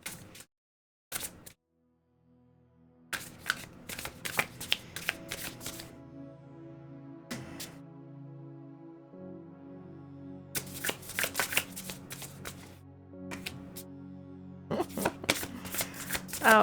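A deck of reading cards being shuffled during a live intuitive-reading stream, repeated riffling bursts with pauses between them, close and crisp, over soft background music.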